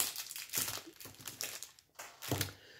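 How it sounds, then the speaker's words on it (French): Close paper crinkling in several bursts, crisp rustles rising and fading over a few seconds with a short quiet gap. "le papier, ça fait du bruit"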